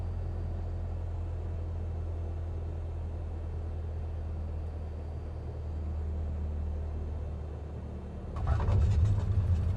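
Cessna plane in a flight or racing sim video game coming in for a fast approach and touchdown, a steady low engine drone throughout that swells into a louder rumbling burst near the end.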